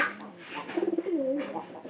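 White pigeons in a loft give soft, rolling coos, a couple of warbling phrases rising and falling close by against a quiet background.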